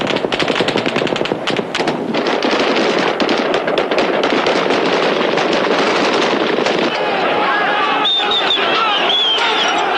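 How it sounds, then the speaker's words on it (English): Rapid bursts of gunfire crackle loudly and continuously during a firefight between armed defenders of Russia's parliament and police, with a crowd of demonstrators clamoring underneath and whistles or shouts rising near the end. "the demonstrators swarmed toward Russia's parliament, whose armed defenders had a firefight with police"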